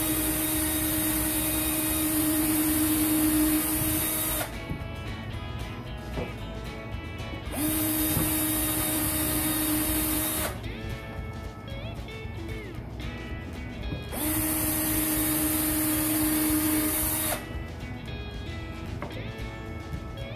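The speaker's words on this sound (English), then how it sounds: "I'll go ahead and drill a pilot hole for those as well." A drill boring a pilot hole in wood, running in three bursts of steady high whine, each about three seconds long, with quieter pauses between them.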